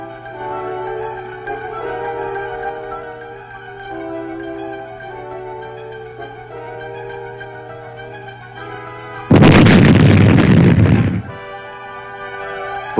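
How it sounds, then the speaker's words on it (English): Plastic explosive charges set off to destroy buried mines on a Vietnam-era route cleared by an armored cavalry unit: one sudden loud blast rumbling for about two seconds, with a steady mechanical drone and hum before and after. "these mines were destroyed by demolition experts using charges of plastic explosives"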